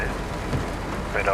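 Heavy rain in Euro Truck Simulator, with a Scania or Volvo truck driving through it, a dense, steady hiss drumming over a low engine rumble, loud and continuous throughout.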